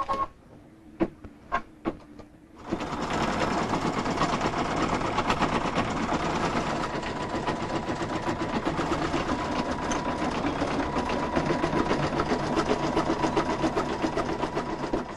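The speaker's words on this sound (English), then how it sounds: "We're going to place the hoop back into the machine, put on our next thread color, and begin stitching." An embroidery machine stitches an applique lace doily in the hoop, a rapid, steady mechanical chatter that starts after a few light clicks and runs on continuously at even loudness, close by and with no talking.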